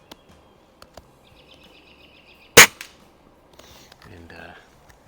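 A Daisy Model 131 .177 break-barrel pellet gun fires one sharp, loud shot in the middle, outdoors at a 25-yard target, with faint bird calls and quiet ambience before and after.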